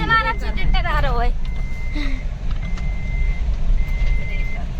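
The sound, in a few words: tractor approaching with reversing beeps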